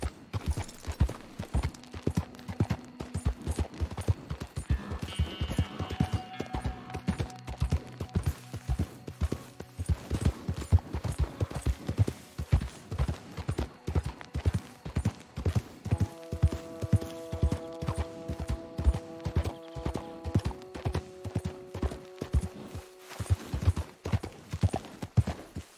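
Horse hooves gallop in a steady, rapid clip-clop rhythm in Red Dead Redemption 2, loud and continuous throughout under sustained musical tones from the game.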